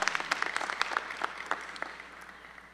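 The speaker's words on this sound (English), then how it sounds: "Another rousing round of applause." Applause from an audience at a fall university matriculation convocation, a scattered clatter of claps heard from a distance, fairly faint and fading out over a few seconds.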